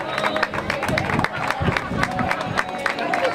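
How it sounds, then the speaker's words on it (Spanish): Audience clapping and cheering at a swimming award ceremony for an open-water crossing race, dense sustained applause with crowd noise mixed in. "Fuerte el aplauso para todos ellos y todos los anteriores de la travesía larga."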